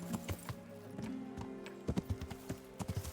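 Hoofbeats from a horse in Kingdom Come: Deliverance clop in irregular clusters over about three seconds, close and steady, with a sustained tonal game ambience beneath them.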